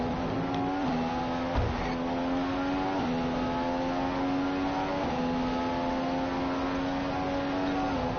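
A Formula 1 race car engine in the F1 2015 racing game, a steady high-pitched whine held near constant with a few quick gear-shift dips, loud and continuous throughout, with no voices over it.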